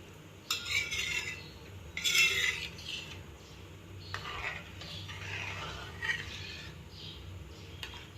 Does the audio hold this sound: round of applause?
no